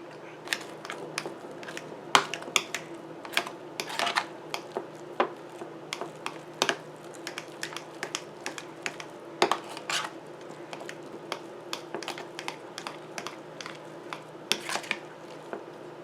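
Deviled egg filling is mixed and mashed in a bowl, with a steady run of irregular metallic clinks and scrapes of a utensil against the dish, close and fairly crisp, with no talking.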